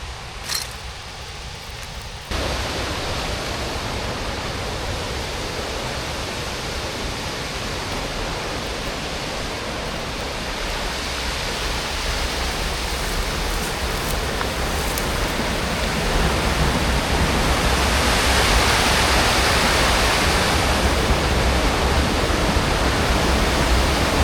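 Broad, steady rush of a river flowing below the riverbank, continuous and loud, swelling slightly louder toward the end with no talk over it.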